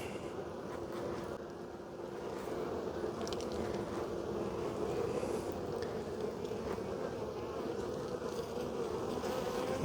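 Honeybees buzz at an open hive in January while carrying pollen, with early brood present. The hum is a steady, close, continuous drone that goes on unbroken and without speech.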